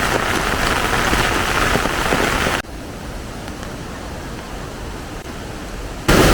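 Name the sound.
heavy rain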